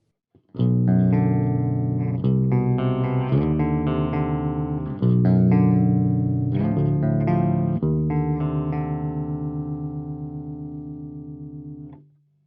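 Clean electric guitar chords through a Quad Cortex amp capture ring out, strummed in a slow sequence with sustained, shimmering tone and slight chorus, fading out at the end.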